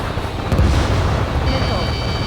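AA gun destroyed in Ace Combat 7: a deep rumbling blast swells midway and rolls on under steady jet engine roar, with a faint high whine joining near the end.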